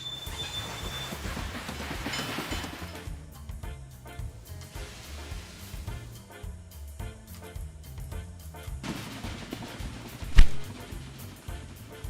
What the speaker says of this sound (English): Trains dispatch freight cars, passengers and mailbags.